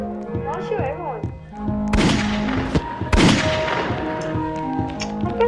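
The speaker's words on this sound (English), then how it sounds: "I'll keep firing it to shoot this." Video game gunfire from Roblox Piggy, a couple of loud blasts and thuds over continuous game music.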